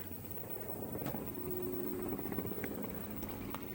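A steady low rumbling drone with a faint rhythmic chop, like a helicopter passing at a distance, continuous throughout with no voices.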